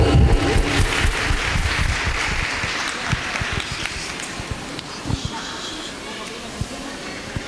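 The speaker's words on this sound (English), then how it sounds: "Give him a big round of applause" Audience applause for the chief guest at the ASTERIA 2026 celebration, a dense burst of clapping from a hall crowd that starts loud and gradually thins out into scattered claps, with people talking underneath.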